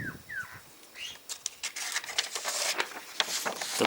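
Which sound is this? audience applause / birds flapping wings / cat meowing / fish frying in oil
birds flapping wings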